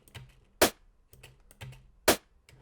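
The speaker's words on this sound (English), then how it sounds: "you can hear, if I just play the snare on its own." A drum and bass snare built in the Phase Plant synth plays on its own: two loud, sharp cracks about a second and a half apart, with softer ghost hits in between.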